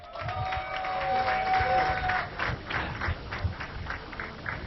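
An audience at a golf event applauds, a crowd of clapping hands with some cheering, rising in strength and then fading into scattered claps, heard from within the room.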